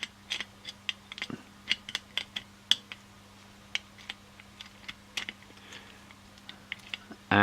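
A threaded cocking lever being fitted through a Crosman Mk 2 CO2 air pistol during assembly, giving a series of small, sharp metallic clicks and ticks at an irregular pace, close and quiet over a low steady hum.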